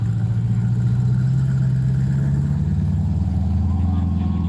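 A car fitted with a titanium exhaust rumbles at a low idle, a deep steady drone that lifts slightly mid-way, heard close and continuous at a car show.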